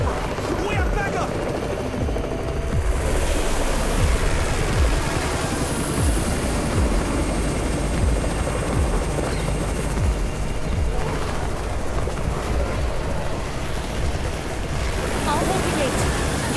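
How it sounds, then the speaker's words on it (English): A military helicopter in the Undawn video game arrives, its heavy rotor thrum steady and loud throughout with a broad wash of wind-like noise, and a voice speaks briefly over it. "It's the Raven's chopper!"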